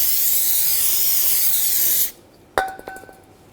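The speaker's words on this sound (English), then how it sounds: "Now take some brake parts cleaner, clean off the rotor." An aerosol can of brake parts cleaner sprays a loud, continuous hiss onto a brake rotor of a 2007-2013 BMW 328i for about two seconds, then stops, followed by a few light metallic clinks.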